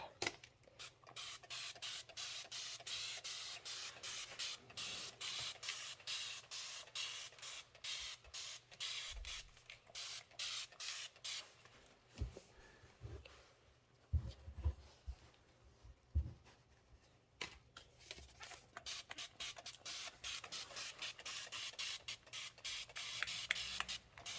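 Spray can misting fabric during sewing prep, heard as many short, close hissing bursts in quick succession, with occasional soft handling thumps between them.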